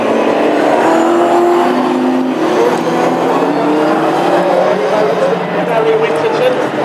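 Classic hot rod race cars circle a Birmingham track in a steady, loud engine drone, with revs rising and falling as a commentator talks over the noise.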